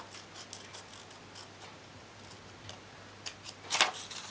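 Quiet snipping of scissors cutting paper for a window envelope, a series of short crisp cuts at an uneven pace, ending in a slightly louder burst of snips close by.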